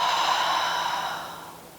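A long, steady exhalation during a yoga breathing exercise, a soft breathy rush of air released after a held breath that slowly fades over nearly two seconds, close and alone.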